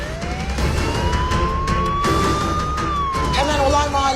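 A police car siren wails nearby, its pitch sweeping up and down over a rumble of traffic, with voices talking underneath.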